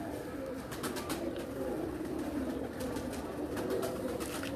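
Breeder pigeons on a rooftop coo in low, repeated throaty calls that overlap in a continuous murmur, fairly close, with faint background sounds and no clear speech.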